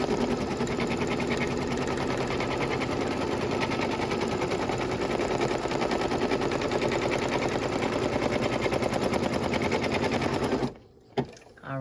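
A Brother NQ3550W embroidery machine stitches steadily, a loud, fast mechanical rattle with a relentless even rhythm close up, cutting out briefly near the end before starting again.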